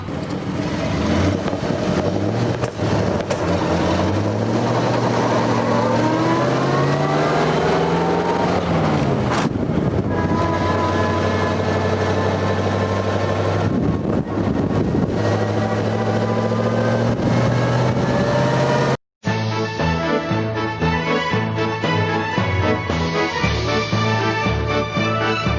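A restored mid-engine car with dual carburetors drives along, its engine note rising and falling through gear changes as a steady close drone, before ending abruptly into a different, music-like passage.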